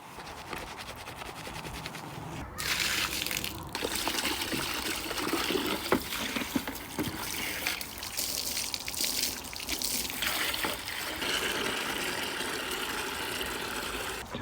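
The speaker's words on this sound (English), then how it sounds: "I always like to do a second rinse of the body just to make sure that there is no soap left over on their body" Water spraying and rinsing over a dog's body during a bath. A steady hissing, splashing flow runs close and fairly loud from about two seconds to the end, with small fluctuations as the spray moves and no talking.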